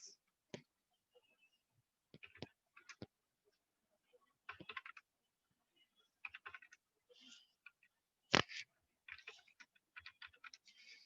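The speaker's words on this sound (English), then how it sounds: "now I type here marks." Typing on a computer keyboard in a quiet room, with faint, scattered key clicks coming in short bursts separated by pauses, heard up close and without any talking.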